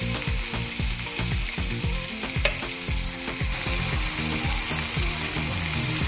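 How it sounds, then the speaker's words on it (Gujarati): Chopped onions fry in a pan with salt and pepper, making a loud steady sizzle broken by rhythmic scraping from stirring, with no talking. "માત્ર 2 મિનિટ માટે આ કાંદાને ચડવા દેવાના છે"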